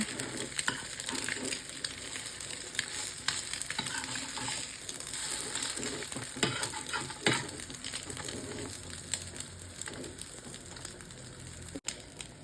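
An omelette fries in a pan, a soft continuous sizzle with scraping and stirring clicks from a spatula folding it, close but fairly quiet, no voices.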